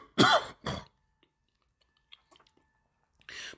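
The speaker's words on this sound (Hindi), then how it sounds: "मेरे को खांसी उठ गई थी" A man at a protest gathering coughs and clears his throat, two sharp loud bursts near the start and another at the end, with faint small mouth noises in between.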